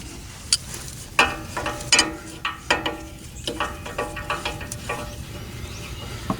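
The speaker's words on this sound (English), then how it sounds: "A slightly smaller crescent wrench should give me swing room." A crescent wrench works on a Toyota Tundra, giving a series of sharp metallic clicks and clanks in irregular bursts, close up and fairly quiet.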